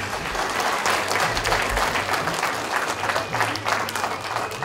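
Audience at a 90th birthday celebration applauds in a dense, sustained round of clapping, fairly loud throughout with a crowd murmur underneath.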